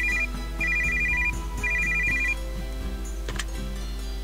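A telephone rings in an RPG Maker VX Ace game with repeated electronic trilling bursts in an even rhythm over steady game music, loud and close.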